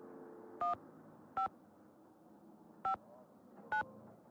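A phone in a Nancy Drew video game is dialed with four distinct DTMF key tones, each a short bright beep, spaced unevenly over a faint steady background hum.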